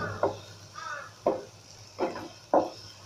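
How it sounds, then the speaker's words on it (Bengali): A spatula stirs onion masala being sautéed in a pan for prawn do pyaza, giving four separate scraping strokes spaced about a second apart over a faint, low background hum. "এটা একটু সময় নিয়ে কষিয়ে নিতে হবে।"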